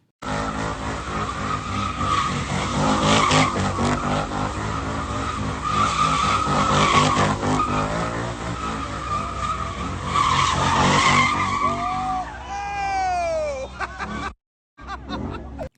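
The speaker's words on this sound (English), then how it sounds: "This is a street racing event in which people are enjoying themselves" Cars skid and squeal their tires at a street racing event, long continuous screeching with rising and falling pitch sweeps near the end, loud and close, with crowd noise and a few chuckles mixed in.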